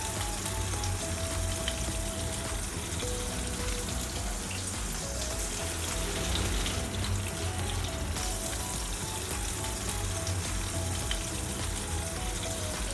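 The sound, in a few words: sweet potato cutlets shallow frying in hot oil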